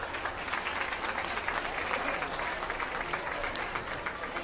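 Audience applause at a youth swine show honoring first-time showmen, a steady, dense patter of many hands clapping throughout, moderately distant in a show arena.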